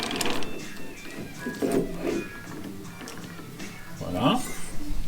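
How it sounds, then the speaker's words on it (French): Workpiece clamped in a metal lathe chuck, with clicking ratchet-like turns and mechanical clanks, close and moderate, under occasional speech. "je fixe ma pièce dans le mandrin"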